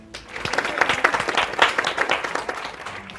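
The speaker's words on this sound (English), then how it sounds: "A round of applause, please." An audience at a university quiz championship final between Strathmore and the University of Nairobi applauds, a steady burst of many hands clapping, moderately close, swelling and then tapering.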